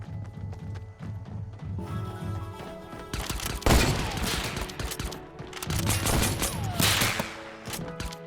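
Fortnite gunfire on Nintendo Switch rattles in rapid bursts and single loud shots, including a heavy blast midway, mixed with game music and effects.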